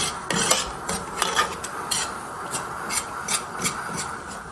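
A utensil scrapes and stirs rhythmically against a pot as ground ogbono melts in hot oil, with a faint sizzling hiss underneath.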